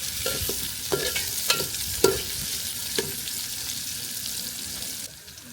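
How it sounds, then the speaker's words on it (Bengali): Chopped onion and garlic frying in oil with bay leaf and whole cumin, a broad hissing sizzle with intermittent stirring clicks, near and steady, easing slightly near the end, with no talking. "আর এবার দিয়ে দেবো পেঁয়াজ এবং রসুন কুচি।"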